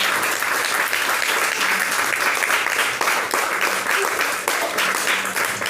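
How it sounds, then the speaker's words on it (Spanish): A church congregation breaks into loud, sustained applause, many hands clapping in a thick, even roar that carries on without pause. "Apláudele, si le va a aplaudir,"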